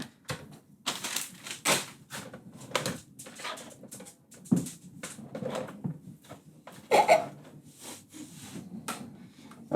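Carrots are chopped on a cutting board for a Jamaican-style carrot punch, with a rapid run of sharp knife knocks and crunching cuts in irregular bursts, close and clear, with brief pauses between runs.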